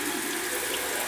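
Kitchen tap water pours steadily into a sink to rinse a bag of turkey giblets, a constant close-up splashing rush with no talk over it.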